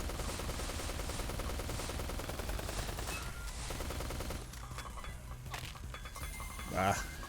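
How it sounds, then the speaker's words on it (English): Micro missiles fire in rapid succession during a boss fight in the Neon Chrome video game, a dense burst of shots and blasts that later thins into scattered impacts, with a voice talking over part of it. "I'm just gonna fire off all of these micro missiles straight off the bat"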